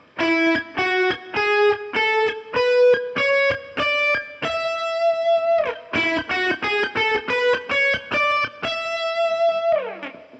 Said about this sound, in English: you now have the E Mixolydian scale, and that looks and sounds like this when played on one string.